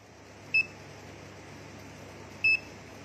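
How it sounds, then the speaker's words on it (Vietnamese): Two short, sharp beeps from a digital multimeter set to continuity mode, checked before testing a Smartkey ignition lock on a Honda SH scooter, separated by about two seconds over a steady low hum. "Chúng ta kiểm tra đồng hồ trước khi đo có tít tít hay không."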